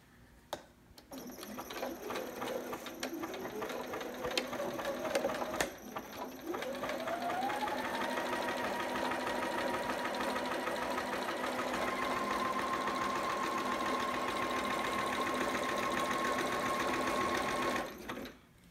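A sewing machine zigzag-stitches across a seam on a romper, starting, briefly pausing, then speeding up into a long continuous whirring run with rising pitch, close and steady, with no voices.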